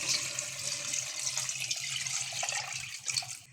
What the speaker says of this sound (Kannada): ನಾನು ಈ ಸಮಯದಲ್ಲಿ ಈಗ ನೀರು ಹಾಕ್ತಾಯಿದ್ದೀನಿ